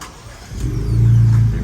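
A Ford Bronco's engine turns over and catches, rising into a steady, loud low rumble that builds close by and holds.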